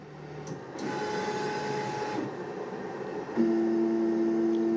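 Anycubic Kobra S1 3D printer motors moving, a steady mechanical whir with clear tonal hums that shift pitch partway through and grow slightly louder near the end, heard close with no talking.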